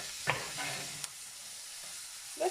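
Onion and garlic sweat gently in olive oil for a spinach dip, making a soft low sizzle with a few light stirring knocks and clicks, nearby, with no voices.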